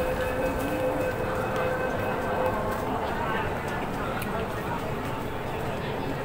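MTR train at Admiralty station in Hong Kong, bound for Chai Wan, with a steady rumbling platform and rail noise and faint clatter, while people talk nearby.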